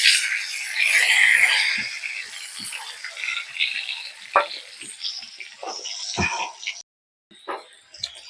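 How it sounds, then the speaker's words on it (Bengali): Potato pieces frying in hot oil in a kadai for a Bengali potato chicken curry give a loud broadband sizzle that eases after the first seconds, with intermittent clinks and stirring knocks. "তেল গরম হয়ে গেছে, এবার এই আলুগুলান আগে ভাজে নেব।"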